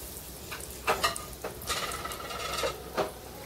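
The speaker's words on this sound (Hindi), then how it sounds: "थोड़ा सा तेल डालें और अभी इसको फ्राई करेंगे गोल्डन ब्राउन होने तक फ्राई करेंगे" Chicken croquettes fry in a little oil toward golden brown, a quiet steady sizzle punctuated by a few clinks and scrapes of a utensil against the pan, heard close with no talking.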